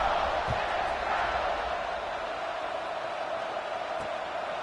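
Stadium crowd buzzing in an American college football video game, Ole Miss vs Mississippi State: a steady, even roar of noise held throughout with no distinct cheers or peaks.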